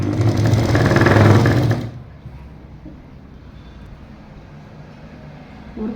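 A sewing machine stitches pieces of a straight pant in a loud, fast, steady whir for about two seconds, then stops, leaving quiet room noise.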